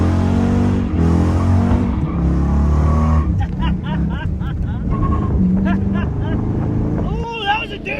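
A 1962 Ford F100 truck does a burnout in second gear: its engine revs hard into a loud sustained roar, then breaks into rough, choppy bursts, with people's voices mixed in.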